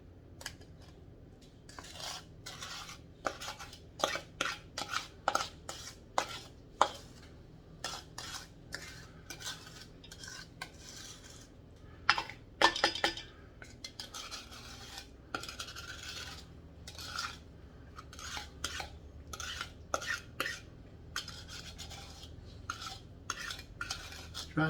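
Scraping butter and sugar out of a dish into banana batter for banana nut bread: repeated scattered metallic scrapes and taps of a utensil against the dish, quiet and close, with no talking.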